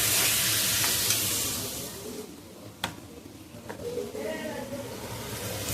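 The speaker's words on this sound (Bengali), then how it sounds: "এটা সব মশলাগুলো ভেজে আর মিক্সিতে বেটে রাখি" Whole cloves, cardamom and cinnamon crackle and hiss in a hot pan for garam masala; sizzling is loud at first, then softens into quieter frying with faint clinks.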